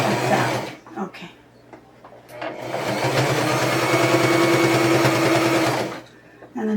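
A sewing machine stitches a potholder seam in a close, loud, steady run lasting several seconds, with brief stops and short bursts before and after.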